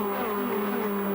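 Formula Ford race cars from a 1988 festival run in a tight pack, engines whining at steady high revs with several overlapping tones blending into a loud, continuous drone.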